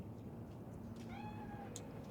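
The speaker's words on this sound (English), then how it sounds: "Do you see it? That cat?" A cat meows once in Cyberpunk 2077, a short rising-then-falling call over a steady low background hum.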